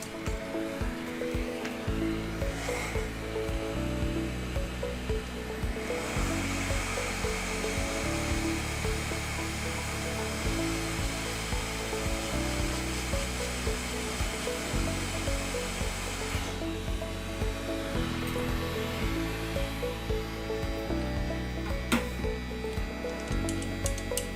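A hot air blower runs steadily as it heats an electronic component during repair, a loud, continuous close whoosh that swells in strength partway through and keeps going without talk.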